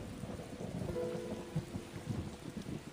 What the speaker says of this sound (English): This thunder's pretty intense